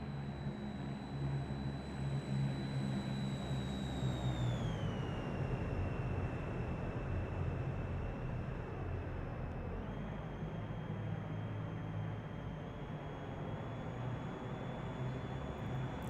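An aircraft engine drones steadily in Microsoft Flight Simulator 2024, with a high whine that drops in pitch partway through and then holds, continuous and fairly loud.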